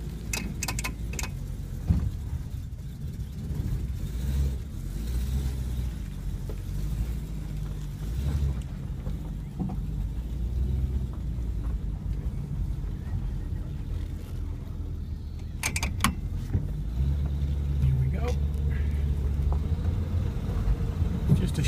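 A 1949 Buick Roadmaster Sedan drives along with its engine running, a steady low rumble and road noise throughout, with occasional rattles and clicks from inside the car.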